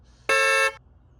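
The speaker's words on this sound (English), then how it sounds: "You can practically hear the car honking in your head." A single car horn blast sounds alone, loud and close, a steady harmonic honk held for about half a second before cutting off into near silence.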